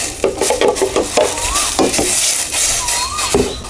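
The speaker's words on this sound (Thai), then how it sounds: "เราก็มาใส่ส่วนของพริกแกงที่เราปั่นไว้ลงไปเลยค่ะ" Blended chili curry paste for a sour curry with mixed mushrooms and catfish is stirred into a cooking pot, with repeated close scraping strokes against the pot and a light sizzle underneath.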